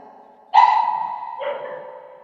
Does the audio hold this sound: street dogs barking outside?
yes